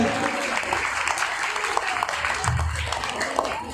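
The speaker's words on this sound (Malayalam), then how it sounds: "എല്ലാവരും കൈയടി കൊടുക്കാം" An audience claps in applause at an Onam celebration, with a steady wash of hand claps and a voice speaking over them.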